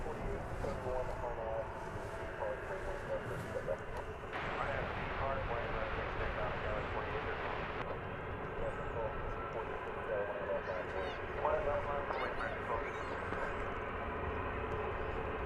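A plane at DFW Airport gives a steady, distant jet roar that runs under continuous talking.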